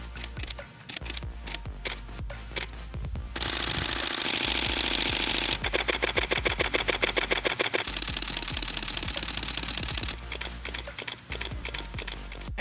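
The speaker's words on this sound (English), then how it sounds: "I'd like to give you a short demonstration of various shutter capabilities" Canon EOS-1D X Mark II and EOS 5D Mark IV shutters fire in rapid bursts, sharp mechanical clicks in fast continuous strings interspersed with single shots, close and crisp.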